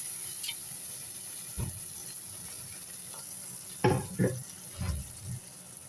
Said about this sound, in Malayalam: മോരങ്ങ് ഒഴിച്ചു കൊടുക്കാം.